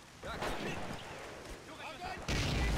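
Artillery fire in a one-on-one tank-combat video game booms and rumbles, loud and sustained, with a heavy blast near the end. Talk runs underneath.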